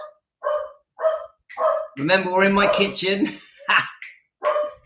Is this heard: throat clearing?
no